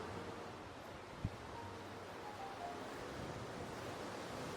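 Sea waves along the Andaman Islands coast wash in a steady, broadband roar with wind noise on the microphone, unbroken for several seconds apart from one brief knock.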